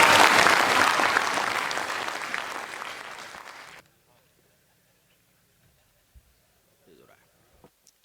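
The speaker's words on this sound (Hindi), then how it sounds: "एक बार ताली बजा दो ना भाई।" Audience at a kavi sammelan poetry recital in Sanchor applauding loudly, the clapping fading steadily over about four seconds into near silence with a few faint knocks.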